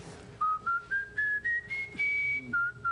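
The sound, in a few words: man whistling a tune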